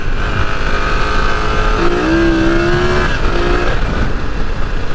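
A BMW F900GS motorcycle engine drones loudly and steadily while riding, with a smooth pitch rise and fall midway as the throttle changes.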